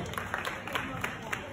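A small crowd claps steadily for a boy at a first birthday party, with dense, continuous applause and voices chattering over it.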